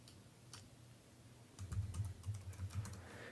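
Quick bursts of keystrokes on a computer keyboard while entering a display name, a soft tap early then a steady run of clicks close by over a low background hum.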